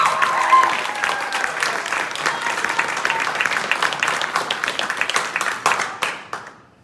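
A high school jazz band audience claps and applauds after solos, a dense steady wash of hands nearby that fades out at the end, with a voice speaking over it near the start.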